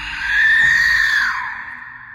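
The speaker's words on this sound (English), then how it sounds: "the death whistle, which is like more of an Aztec instrument. It's like a clay skull, which is various sizes but make very scary, almost like a human scream sound." An Aztec death whistle, a clay skull-shaped instrument, lets out a single shrill, scream-like wail that swells for about a second and then tapers off, loud and alone.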